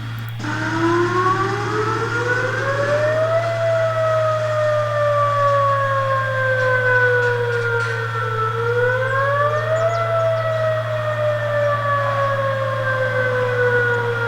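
A loud emergency siren being tested at a company wails continuously, its pitch sliding slowly up and down in long sweeps over a steady low hum.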